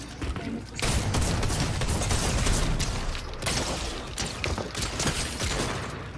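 Sustained, dense gunfire from a Fortnite match, continuous bursts of shots and loud impacts rolling on for several seconds, close and overwhelming with a short quieter lead-in.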